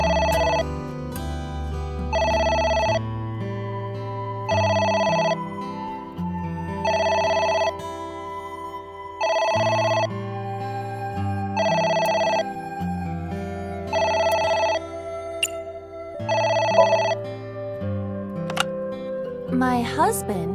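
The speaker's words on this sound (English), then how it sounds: "It's the phone." A telephone rings in the video game AI: The Somnium Files, a loud electronic ring repeating in regular bursts with short gaps over a low in-game music bed.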